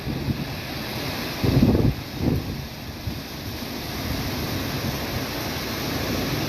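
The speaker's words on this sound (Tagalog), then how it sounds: "sobrang lakas na ng hangin dito sa karaan" Strong wind in Torrijos, Philippines, during a storm roars and buffets the microphone, with a couple of louder rumbling gusts early on and a constant broad rush underneath.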